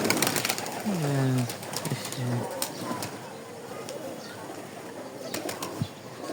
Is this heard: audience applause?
no